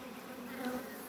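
Honey bees drone at an opened hive during an inspection, a dense, steady buzzing up close with a slight swell in the middle of the brief moment.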